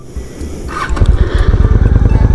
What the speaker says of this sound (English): So when I start the bike, it's not going to lurch forward or do anything crazy.